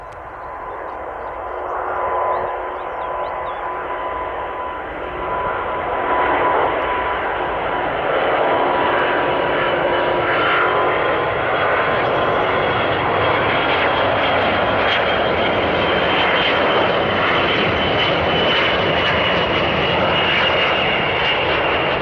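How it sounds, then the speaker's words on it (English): An Airbus A350 taking off on a single working engine during an engine-failure test at the Airbus factory, its engine roar building into a loud, steady, sustained rumble with no talk. "This Airbus A350 struggling to take off as it only has one functioning engine and half its usual"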